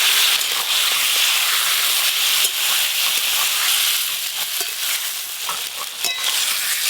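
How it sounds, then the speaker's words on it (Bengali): Vegetables fry in a wok with ginger, cumin and dried chilli, giving a loud, steady sizzling hiss close by, broken by the occasional scrape of stirring. "এবার ছুঁকে দেবো ভেজে রাখা সবজি।"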